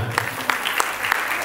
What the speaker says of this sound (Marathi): सर्वांनी या सर्व कलाकारांना आपला नजराणा सुरू करण्याच्या आधी टाळ्या वाजवून त्यांचं कौतुक करायचं.